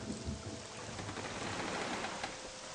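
Steady rain with a low rolling rumble of thunder in the stormy game world of Morrowind, heard at a harbour before a boat trip north; a constant, fairly loud wash of rainfall with no voices.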